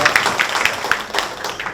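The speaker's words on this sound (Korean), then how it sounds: "여러분 우리 위원장님께 격려의 박수 한번 부탁드립니다." An audience applauds a committee chair at a public forum on household waste and incineration facilities, a steady, dense patter of many hands filling the room without a break.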